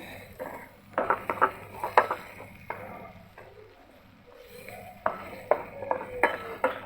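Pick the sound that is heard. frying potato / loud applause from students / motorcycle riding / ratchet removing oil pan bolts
frying potato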